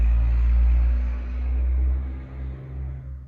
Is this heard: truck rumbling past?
yes